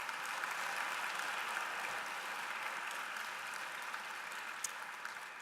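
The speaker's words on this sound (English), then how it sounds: "Let's give her another round of applause." Faint, distant, steady applause from a commencement audience at a nursing college ceremony, a continuous even patter of many hands.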